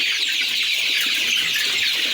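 A flock of about 300 Sasso breed chickens on a poultry farm in Kenya make a continuous soft chorus of clucks and chirps, close by and fairly steady, with no talk.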